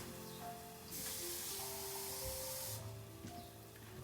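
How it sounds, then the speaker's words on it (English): Water pours from a tap or jug into a pot of jasmine rice, a steady splashing hiss lasting about two seconds before cutting off, with quiet kitchen sounds around it. "So I'm just gonna add some water now."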